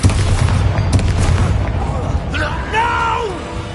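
A Confringo blasting spell goes off in the Hogwarts Legacy video game, a loud booming explosion at the start with rumbling bursts, then fading under a character's voice.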